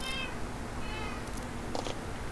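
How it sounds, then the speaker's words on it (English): A cat meowing in the Minecraft video game, two or three thin wavering meows over a constant low background hum, no voices. "God, those meows are annoying."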